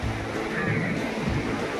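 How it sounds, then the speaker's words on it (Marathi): Rough high-tide sea waves crash and wash on the shore in a dense, continuous roar, loud and close throughout. "समुद्राला उधाण तर इतकं डेंजर आलं आहे की त्या लाटांवर आपण सर्फिंग करू शकतो"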